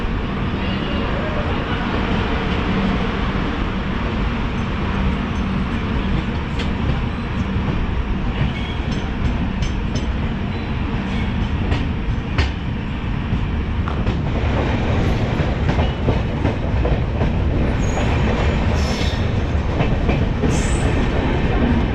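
Magadh Express passenger train rolling along the rails, a steady loud rumble with rhythmic wheel clatter continuing throughout, heard from on board.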